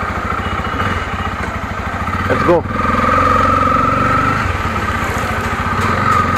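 A Bajaj Pulsar F250 motorcycle engine runs close by with a steady, pulsing idle and a brief rise and dip partway through, while someone talks over it.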